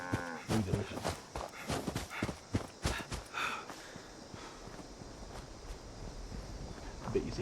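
A cow moos in the video game Fallout 76, a short low moo among clopping footsteps and clattering game sounds, with a voice talking over parts of it before things quieten.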